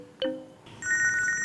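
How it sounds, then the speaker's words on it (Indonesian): An incoming call sets a phone ringing with a bright, repeating electronic ringtone melody, close and fairly loud, preceded by a brief chime-like tone. "Mbak, ada telepon."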